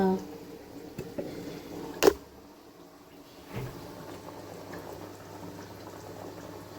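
Kera fish head curry bubbles in a pot on the stove with a soft, steady simmer. A sharp clank of a lid or pot lands early, a duller knock follows, and a voice speaks briefly.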